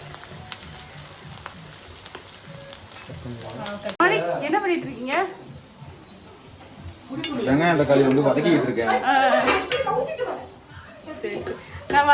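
Fish curry masala being sautéed in a pan, with soft sizzling and the scrape of stirring, mostly under people talking loudly over it in intermittent bursts.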